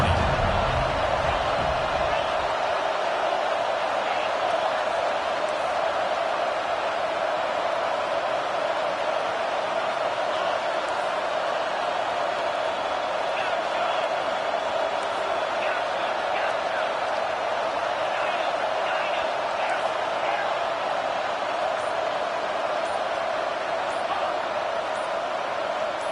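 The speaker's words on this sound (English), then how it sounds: "with this place rocking, the crowd forces a false start" Football stadium crowd roaring, a dense, continuous wall of cheering noise that holds steady and loud throughout.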